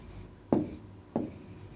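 Two short, distinct pen strokes scratch across notebook paper, each a quick scrape followed by quiet, close and fairly soft.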